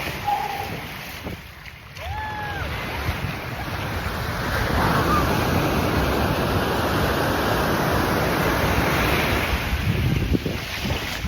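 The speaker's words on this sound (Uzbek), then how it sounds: "to'lqin tinmasdan kelmoqda" Sea waves roll continuously onto a beach at Phuket, a loud, steady wash of surf mixed with wind buffeting the microphone; a faint voice briefly sounds near the start.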